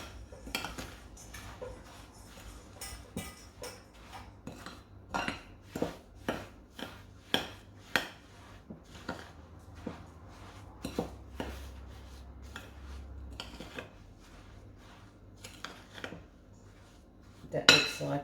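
Desiccated coconut is stirred in a bowl, giving repeated clinks and scrapes of a utensil against the bowl in an irregular rhythm, quiet and close, ending with a louder knock.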